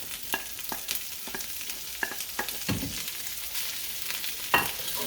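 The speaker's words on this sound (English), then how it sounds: "I'm going to give that a nice stir now" Egg and onions frying in a pan for turmeric fried rice with ham, stirred with repeated scraping and clacking strokes over a steady close sizzle, no voices.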